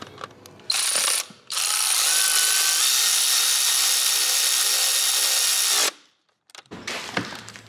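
A hand ratchet fitted with a swivel and an extension turns a bolt on a Demon-swapped Chrysler 300, giving a loud, close, rapid clicking that runs steadily for several seconds after a brief burst and a short pause.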